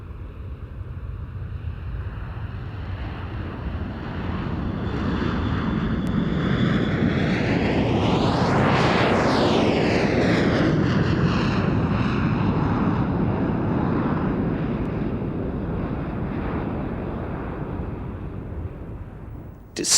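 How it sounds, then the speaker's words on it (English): Boeing B-52 Stratofortress bomber flying past at an air show, a deep roaring jet rumble swelling as it nears, peaking with a sweeping whoosh overhead, then slowly fading into the distance. "the venerable Boeing B-52 Stratofortress"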